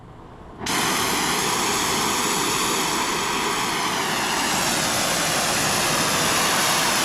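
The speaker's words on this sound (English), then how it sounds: "First thing you gotta do is cut your oxyacetylene on" An oxyacetylene welding torch bursts into a loud, steady, broadband roaring hiss under high gas pressure, starting abruptly after a moment of quieter background and holding constant throughout.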